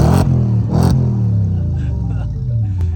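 An Audi S4 with aftermarket, non-stock exhaust revs loudly up close, two sharp blips of the throttle followed by a deep burbling idle that settles and rumbles on.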